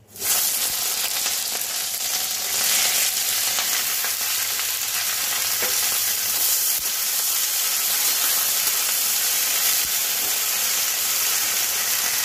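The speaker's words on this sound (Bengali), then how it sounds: "প্রথমে ঢ্যাঁড়সগুলো ভেজে নেব, এবার আমি ঢ্যাঁড়সগুলো ছেড়ে দেব।" Okra fries in hot mustard oil, giving a loud, continuous close sizzle and hiss that bursts in at the start and stays steady throughout, with faint occasional stirring.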